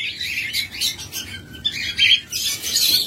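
Master pair of breeding lovebirds chirping and squawking nearby, with bursts of high tweeting calls that pause briefly and then return in louder overlapping chatter.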